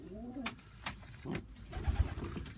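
A pigeon hen held in the hand coos softly, with a few low, rounded calls close by over faint background noise.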